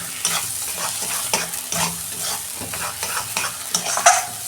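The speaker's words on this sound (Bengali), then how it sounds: "আমি 2 মিনিট নেড়ে এটা শুকনো করে নিয়ে তারপর আপনাদের দেখাচ্ছি" Teasel gourd and coconut mash being stirred and fried in a pan, with a steady sizzle and repeated scraping strokes of a spatula close up, no talking.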